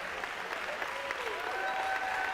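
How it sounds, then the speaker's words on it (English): Audience applause at a school gathering celebrating a volleyball team's win, a dense, steady wash of clapping from a large crowd, sustained throughout. "give a big round of applause"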